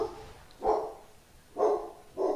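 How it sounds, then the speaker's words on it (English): A pet dog barks in three loud bursts, the last two closer together, with quiet room tone in between. "And there you guys hear my dog who's going wild for some reason."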